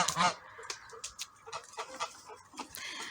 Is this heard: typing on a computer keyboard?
no